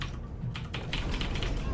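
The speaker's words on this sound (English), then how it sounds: "That sounds like a new keyboard." Rapid clicking keystrokes on a computer keyboard during a Warcraft 3: The Frozen Throne match, a steady close-up patter with a low background hum.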